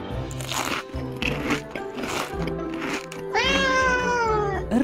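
A cartoon cat in a children's animal-feeding game meows and crunches on fish, with crisp chewing bursts followed by a long, rising-and-falling meow near the end, all close and clear with no talking.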